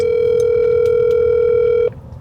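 A loud, steady telephone tone sounds on an outgoing cold call to a store, holding unbroken for nearly two seconds before cutting off abruptly.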